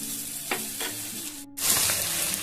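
Potatoes sizzle and crackle in a hot pan with garam masala and kasuri methi while a spatula scrapes and stirs a few times; the frying grows louder after a brief pause.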